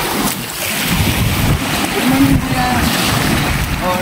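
A motorboat engine drones steadily at sea amid rushing wind and splashing water, with people talking faintly over the noise.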